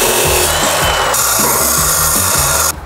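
A power saw cuts through metal stock being prepared for welding in a workshop, a loud continuous grinding whine with a steady rhythmic pulsing that stops abruptly near the end.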